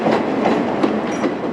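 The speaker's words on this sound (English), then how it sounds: "Most days, another train brings in bodies from the former Boeing plant in Wichita, Kansas" A freight train rolls into a Boeing 737 plant carrying fuselage bodies from the former Boeing plant in Wichita, Kansas, giving a steady, loud rumble with rhythmic clickety-clack of wheels over rail joints and no voices.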